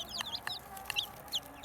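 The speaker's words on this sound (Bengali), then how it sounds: "আর এগুলো হইতেছে ফাউমি মুরগি" Fayoumi chickens cluck in short, close bursts, with several scattered calls overlapping at moderate loudness and no talking.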